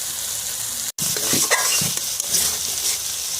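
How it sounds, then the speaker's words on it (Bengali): Masala paste sizzling and frying in oil in a pan for butter prawns, a loud, steady crackle with soft stirring scrapes throughout, briefly cut by a short dropout near the start. "মশলাটা কষিয়ে নিয়েছি, এটা দেখছেন আপনারা সুন্দর তেল ছেড়ে গেছে"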